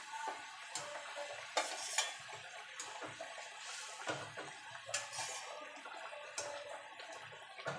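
Pieces of boal fish go into a boiling, spicy fish curry and are stirred, giving soft scraping and light clinking taps over a low, bubbling simmer.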